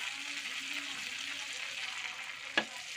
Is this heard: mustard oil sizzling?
yes